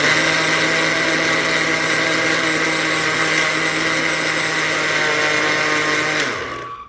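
Electric grinder pulverizing roasted flaxseed, a loud steady high whine that runs unbroken for about six seconds, then spins down and stops, close and without talk.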